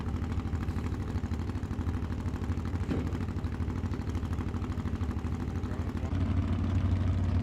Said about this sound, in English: This is an Oliver tractor with running a Mopar 440, big block, Mopar